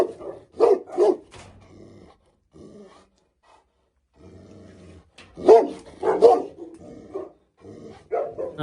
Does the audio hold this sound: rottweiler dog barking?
yes